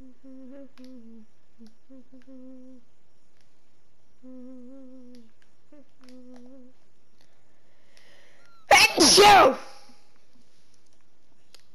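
A person sneezes once, a short loud burst near the microphone during a Minecraft session, with quiet game music and speech around it.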